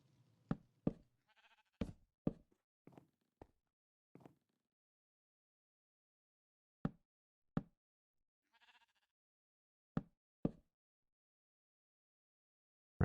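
A sheep on a roof gives several short bleats in quick bursts, followed by a long quiet gap and then a few more sharp bleats and knocks, all fairly faint against near silence.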